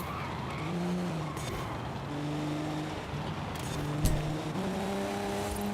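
Audi tires skid and squeal in the racing game Forza Horizon 5, with a sustained engine drone and wavering squeal tones over several seconds, moderately loud and without talk.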